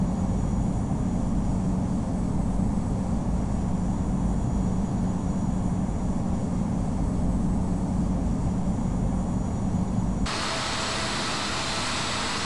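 A United airliner's jet engines roar steadily as it takes off from runway 28 left in the Infinite Flight game, a loud constant rumble that shifts abruptly near the end.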